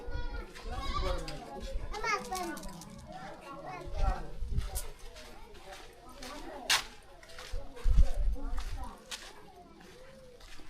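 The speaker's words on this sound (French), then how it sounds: "Plein de chèvres partout." Goats bleat repeatedly and overlap in a busy outdoor scene in Adjarra, Benin, with children's voices and chatter running underneath.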